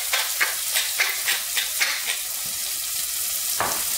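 Scallions and black pepper fry in butter in a saucepan over medium heat, making a steady close sizzle broken by rhythmic scrapes of stirring, with no talk.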